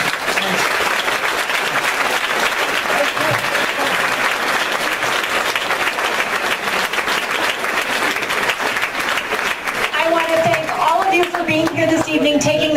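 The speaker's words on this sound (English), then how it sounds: "At this time, why don't we give Chris another round of applause?" Sustained applause from an audience, steady clapping throughout, with a voice starting to speak over it near the end.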